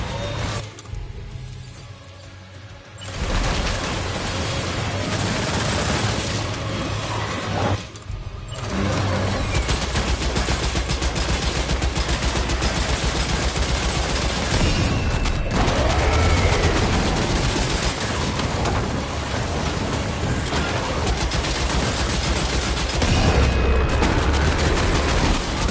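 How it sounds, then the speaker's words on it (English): Video game gunfire opens up in a sustained, loud barrage of rapid automatic shots and booms that runs almost unbroken, with only brief lulls. "Opening fire now!"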